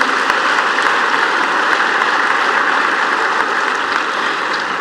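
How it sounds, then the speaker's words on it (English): Sustained applause from a large conference audience after a cultural performance, a dense, even wash of clapping that holds steady throughout. "Can we give them a final round of applause,"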